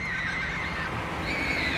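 A horse neighs in a drawn-out, fairly loud whinny, its strained high tones wavering over a steady background of noise, with no talking.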